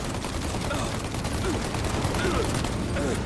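Bursts of rapid automatic gunfire from an enemy gun clatter in a 1930s Mafia video game, dense and steady throughout, with voices shouting intermittently underneath.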